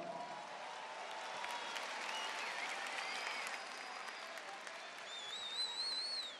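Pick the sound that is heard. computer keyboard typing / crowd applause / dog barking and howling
crowd applause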